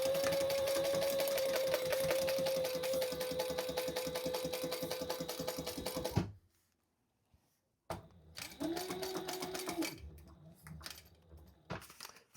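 Sewing machine stitching a Gemella wallet with a narrow presser foot, running in a steady whirring burst for about six seconds, stopping, then starting again in shorter runs.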